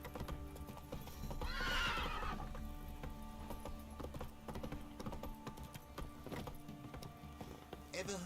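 Roach, the horse in The Witcher 3, lets out a loud whinny, then trots on with a steady, close clip-clop of hooves under low in-game background sound.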